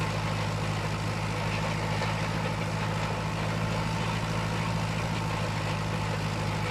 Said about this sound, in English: It's probably the tractor.